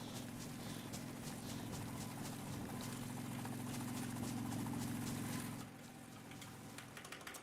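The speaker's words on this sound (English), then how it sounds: "Those hooligan helicopters are so freaking loud" A helicopter flies overhead in the survival game DayZ, a loud steady rotor thump with a droning engine hum that drops off abruptly near the end.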